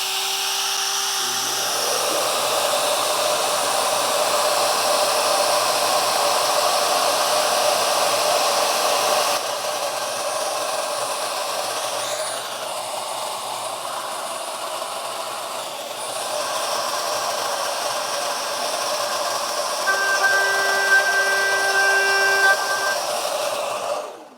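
A Shaper Origin handheld CNC router runs continuously as it cuts a wood inlay, a loud steady high-pitched whine with slight shifts in tone as the bit moves through the wood.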